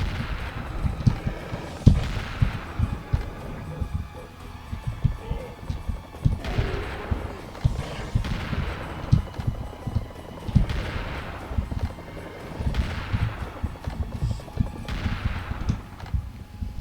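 Repeated blasts from a double-barrel shotgun in the video game Serious Sam: The First Encounter, a handful of sharp booming shots spaced a few seconds apart over low game ambience.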